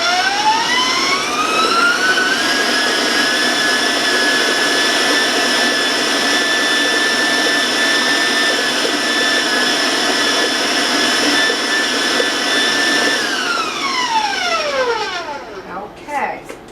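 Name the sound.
electric mixer running at high speed, mixing chocolate fudge cake batter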